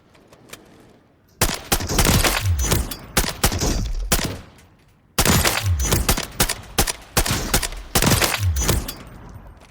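Mark 20 rifle gunfire in Call of Duty Modern Warfare III, two loud sustained bursts of rapid shots, each several seconds long, separated by a brief pause.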